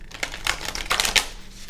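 A deck of cards shuffled by hand, close and fairly loud, with a quick run of crisp riffling flutters and soft slaps falling in several bursts with no talking.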